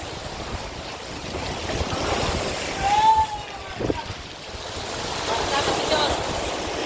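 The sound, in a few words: strong ocean waves at a beach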